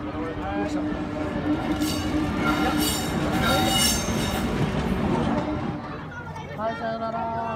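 An electric train rumbles steadily past close by, with squealing wheels and a hum; a voice talks over it throughout, at a railway depot open-day event at Oku rolling stock center.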